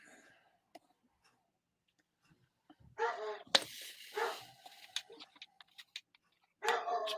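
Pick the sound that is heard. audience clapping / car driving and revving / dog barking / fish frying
dog barking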